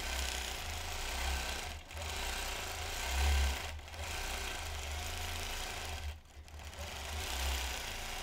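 A vintage Gem sewing machine quilts in a steady, fairly loud running hum that dips briefly about three times.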